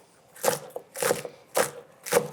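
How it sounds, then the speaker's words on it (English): A kitchen knife slices green onions on a cutting board, four crisp evenly spaced chops about half a second apart, close and clear with no talking. "If you get in the habit of slicing everything, you'll find that your chopping is much less difficult."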